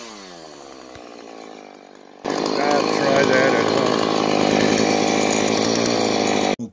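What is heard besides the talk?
chainsaw running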